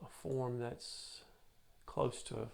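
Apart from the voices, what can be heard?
No everyday noises stand out.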